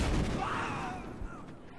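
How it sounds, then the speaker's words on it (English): Gunfire in the video game Battlefield Hardline: a short burst of booming shots at the start that fades into a washy, reverberant tail over under two seconds. "there are people shooting me"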